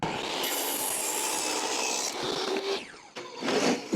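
A table saw cuts a small piece of wood into a wedge: a loud, steady whine with cutting noise that runs for about two seconds, then winds down and rattles briefly before a short final burst.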